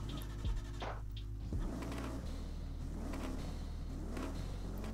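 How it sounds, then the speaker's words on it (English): A 1991 Bentley with a 6.7-liter V8 engine in Forza Horizon 5 drones steadily at low pitch, with a few gear or rev changes and a rough, rumbling tone throughout, heard alone. "It definitely sounds like a V8."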